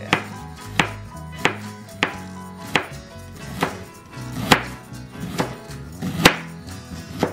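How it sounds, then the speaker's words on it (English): A knife slices food as thinly as possible, giving a steady series of about a dozen crisp, close chopping strikes on a hard surface with even spacing and no talk. "I cut it as thinly as I possibly can"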